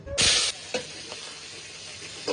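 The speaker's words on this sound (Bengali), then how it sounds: "কিছুটা জিরে ভেজে উঠিয়ে নেবো চিংড়ি মাছগুলো দিয়ে দেবো" Prawns drop into hot oil with cumin, a burst of loud sizzling hiss at the start that settles into a faint, steady fry, with a couple of brief clinks of the pan.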